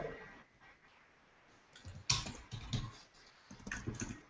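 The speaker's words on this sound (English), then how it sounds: "let me actually type the SSH in here" Typing on a computer keyboard, quiet irregular clusters of key clicks and taps heard up close, with a short pause before faster bursts resume.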